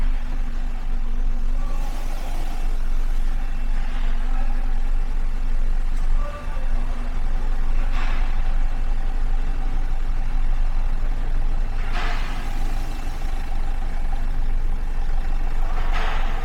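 A Renault Triber car's engine hums low and steady throughout as the car is slowly reversed into a parking spot, a continuous near drone with faint intermittent higher rustles on top.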